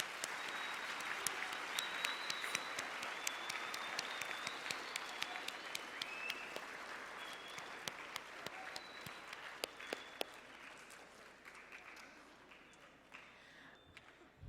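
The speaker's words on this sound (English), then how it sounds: "Let's give him one more round of applause, guys." Audience applauding after a guest speaker at an event honoring a military veteran, a sustained round of dense clapping that fills the room and tapers slightly toward the end.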